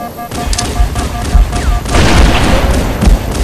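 Grenades explode in a Halo match, giving several heavy booms and thuds mixed with gunfire. Game tones sound early on, and the blasts build into a loud, sustained rumble.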